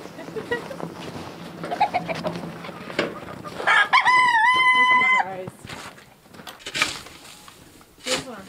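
At a backyard chicken coop in winter, hens cluck and a rooster lets out a loud, drawn-out crow up close, with more clucking and a person talking around it.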